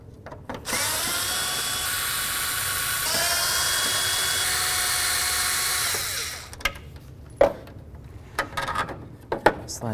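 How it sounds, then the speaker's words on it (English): Power drill whirring continuously for several seconds as it backs out headlight lens assembly mounting screws on a 1992-99 GMC K1500, then stopping, followed by a few clicks and handling noises; no talk. "remove the 4 mounting screws for this lens assembly right here."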